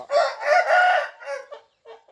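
A bantam rooster crows close by in a short cock-a-doodle-doo, followed by a few brief clucks, loud and clear with no voices.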